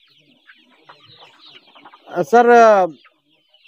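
Chickens kept under a raised goat shed on an integrated organic farm make faint scratching sounds, then one bird lets out a single loud, close squawking cluck; someone briefly speaks.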